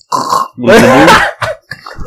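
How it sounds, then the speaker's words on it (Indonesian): A loud, drawn-out human burp, deep and rumbling, followed by a couple of shorter belching grunts, close up and alone with no talk. "Suka sendawa gede."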